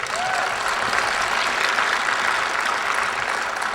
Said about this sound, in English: That's more applause than it got in the Senate.